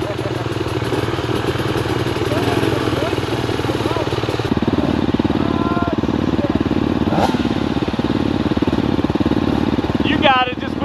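An off-road motorcycle runs on a Hatfield-McCoy trail at Rockhouse near Man, West Virginia, its engine droning steadily and fairly loud throughout, with clatter and people speaking over it.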